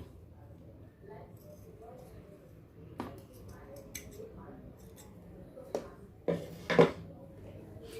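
Scissors snip extra fabric while tassels are being made, a few quiet, scattered cuts that build to a louder crunch of closing blades near the end, with a soft voice speaking under the quiet background.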